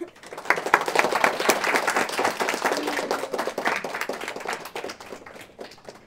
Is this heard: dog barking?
no